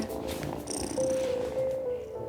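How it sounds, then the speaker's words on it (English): A cat purrs softly in the cozy game Wylde Flowers, a low continuous rumbling purr with a faint tonal game sound over it, quiet and close. "Listen to that purr."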